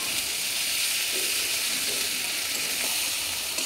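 Fish roe fritters sauté in a hot pan, giving a steady, even sizzle and hiss that carries on throughout without pause or voices.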